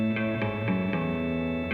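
A six-string electric guitar part, heavy with reverb, plays a sustained chord-like tone with repeated picked attacks at a steady rhythm, heard alone and fairly loud.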